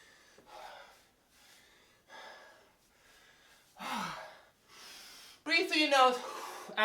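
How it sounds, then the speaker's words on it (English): Heavy, fast breathing during a high-intensity interval workout: repeated loud huffs and gasping exhales close to the mic, each breath a short rushing burst, ending in a strained wheezy push. "I just realized my breathing was a little too heavy, so fast."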